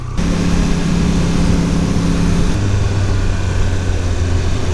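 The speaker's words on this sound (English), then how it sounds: "it does have that kind of like gurgle on the deceleration" Triumph Speed Triple 1200 RR motorcycle exhaust gurgling on deceleration, a steady, loud engine drone with a low rumble that drops to a deeper tone partway through.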